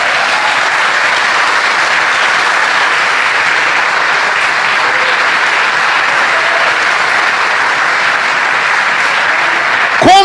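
A church congregation applauds, a dense, steady wash of clapping from many hands that holds at full strength throughout and breaks off abruptly at the very end.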